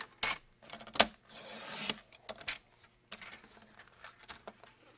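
Paper trimmer slicing cardstock for a double angled gate fold card, faint and close, with a few sharp clicks and short scraping strokes.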